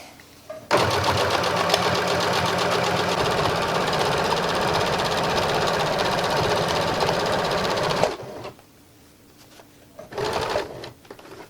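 A sewing machine stitches fabric for a reversible shoulder bag in one loud, continuous whirring run of about seven seconds, then stops, followed by a brief second burst of stitching near the end.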